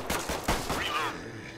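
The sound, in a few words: gunfire in the video game The Last Haven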